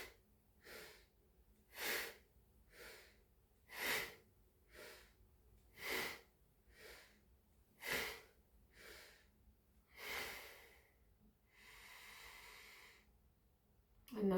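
Rhythmic kundalini yoga breath of fire: forceful, rapid nasal exhales pumping steadily about twice a second, close and breathy, ending in a longer, drawn-out breath.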